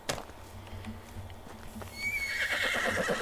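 A horse in the medieval farming game Medieval Dynasty gives a sharp whinny. Its hooves clip-clop steadily while it is ridden, and a brighter rising tone swells near the end.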